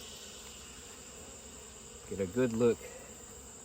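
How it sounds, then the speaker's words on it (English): Honey bees crowd heavy hive frames during an inspection, giving a steady faint buzzing hum throughout, with a brief spoken remark near the end. "Now these next couple of frames are very heavy with bees. Lots of bees on them."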